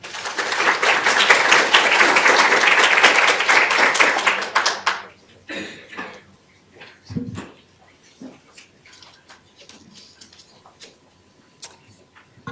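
Audience applause welcoming Professor Kimberly Breedon at a lecture: dense, loud clapping for about five seconds, then tapering to scattered claps and light room noise.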